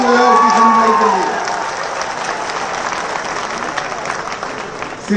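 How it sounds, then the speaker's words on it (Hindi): An audience in an auditorium claps at the launch event for Bharat Taxi in Gujarat. A loud voice speaks briefly at the start, then dense, steady applause fills the hall. "साथी जरा जोर से ताली बजाओ किशन भाई के लिए"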